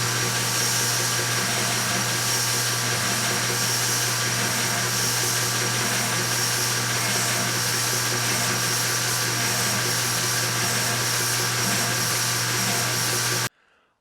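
A power sander levels the radius of a Telecaster fretboard in a steady, loud, continuous whirring grind that holds for about thirteen seconds, then cuts off abruptly.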